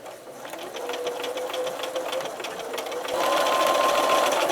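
A sewing machine stitches around the top of a fabric lining for a crochet bag, its fast, even mechanical whir running close and continuously, then growing louder as it speeds up near the end.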